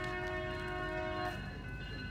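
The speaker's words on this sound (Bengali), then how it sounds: "এই যে পুরানা দিনের ট্রেন" An old-style passenger train near a beach in Portland, Maine, sounds a loud, sustained horn that cuts off after a second or so, then rumbles on steadily.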